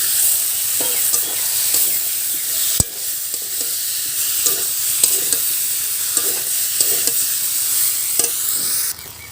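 Boiled potatoes with their skins on are stirred into a frying tomato masala for Banaras-style chaat, a continuous close sizzle under soft repeated scrapes and knocks of the spoon, with one sharp clack partway through.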